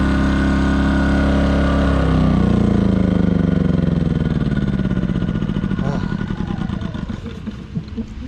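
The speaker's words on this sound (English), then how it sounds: "I'm running my generator because it's actually kind of warm" An RV's portable generator runs nearby with a steady engine drone, then winds down and slows as it is switched off.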